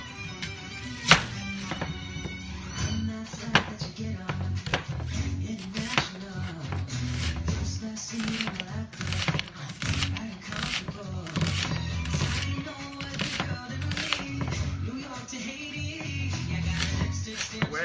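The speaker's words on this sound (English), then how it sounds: "So I'm cutting up an onion right now, y'all." A knife chopping a sweet onion in a home kitchen, with steady repeated taps and scrapes on a cutting board, close and fairly loud, while people talk over it.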